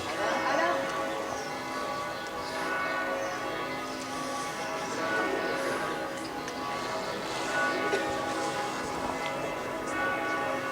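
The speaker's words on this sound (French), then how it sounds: "Ou non, peut-être le carillon sert pour nous accompagner, sonne pour nous accompagner." A church carillon rings steadily through a street demonstration in Pau in support of Ukraine, its bell tones sustained and moderately distant beneath continuous crowd chatter and voices.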